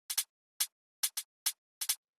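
The main hi-hat of a Future Garage beat plays a sparse syncopated pattern of crisp, bright ticks, some in quick pairs, with clean silence between hits.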